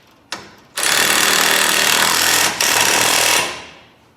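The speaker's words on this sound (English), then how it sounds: "Get that bolted up." A power tool, likely an impact wrench, bolts up a part on a race car: a short burst, then a long, loud, continuous rattling run with a brief dip before it winds down.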